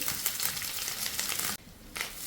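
Grated coconut being sautéed in a pan over a low-medium flame: a steady close sizzle and dry scraping of a spatula, broken by a brief near-silent pause before the stirring resumes.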